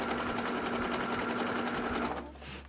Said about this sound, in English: I'm gonna send an extra zigzag stitch across them